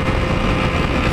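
Steady, loud motorcycle engine drone from a Yamaha MT-09 or XR 250 Tornado cruising in third gear, continuous and close with wind rush and no talk.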